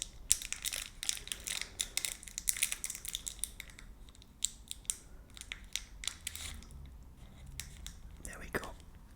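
Crisp snipping and crinkling of a Cadbury Roses candy wrapper being cut with scissors, close and quiet, with scattered rustles and small clicks throughout.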